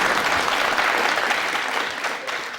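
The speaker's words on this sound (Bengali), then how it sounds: "এরপরে তো হাততালি আরও পড়বে" A studio audience at a televised courtroom-style interview show claps in a dense, sustained burst of applause that holds steady and tapers slightly near the end.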